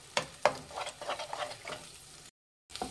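Eggs being cooked in a pan for bread egg bhurji, with a soft sizzle under repeated scraping and tapping strokes of a spatula, a few sharper knocks, then a brief cut of silence before the stirring resumes.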